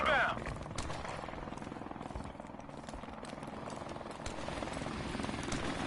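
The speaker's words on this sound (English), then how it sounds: "Enemy helicopter inbound." An enemy helicopter approaches in a video game, its rotor chop forming a steady, dense rumble that grows slightly louder toward the end, under talk.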